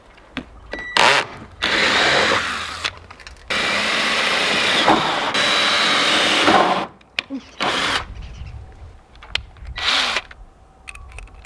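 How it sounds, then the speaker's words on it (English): Power drill driving extra support screws into the back of an RV awning, in several short whirring bursts of varying length separated by pauses, close and fairly loud. "screw in those extra support screws into the back of the awning"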